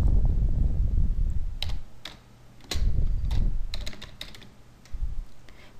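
Keys clatter on a computer keyboard in quick, uneven runs of typing, close and fairly quiet, with brief pauses and a low background hum.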